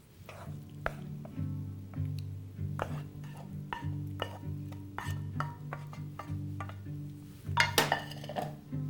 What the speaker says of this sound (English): I'll spoon the whole mixture on top